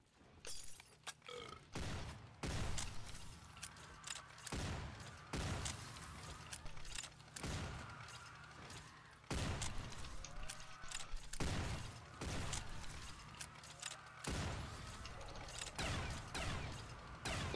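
A double-barrel shotgun fires repeatedly at zombies in a gun-game match, loud blasts at irregular intervals with reload clatter and game effects between shots.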